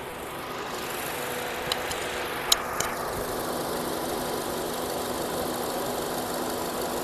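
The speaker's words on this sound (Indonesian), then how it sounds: "Kita dengarkan klep dan transmisinya." A 2012 Honda Jazz RS engine idles with a low, even hum and faint valve ticking, heard close up through a stethoscope with a few sharp clicks partway through.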